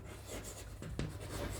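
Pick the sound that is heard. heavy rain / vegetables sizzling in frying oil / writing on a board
writing on a board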